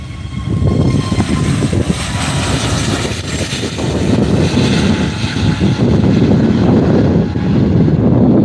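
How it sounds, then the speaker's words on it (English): A Luton-based airliner taking off at Faro Airport, a loud, steady jet roar with deep rumble that stays heavy and close throughout, no voices. "Wait for this Luton aircraft to go."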